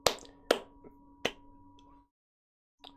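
A few sharp, separate hand claps, three in quick succession followed by a pause and one more, close and crisp over a faint background.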